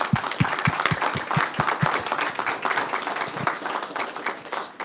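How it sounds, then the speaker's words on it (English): Applause at a city council meeting, a handful of people clapping in quick rhythmic beats that blur into looser, scattered clapping as it carries on. "Let's give them a round of applause for this."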